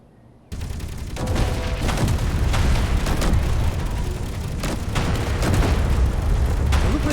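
Railgun and weapons fire during an AI lake battle in the video game Space Engineers: a sudden loud burst after a brief quiet start, then sustained dense booming and rattling fire that continues without a break.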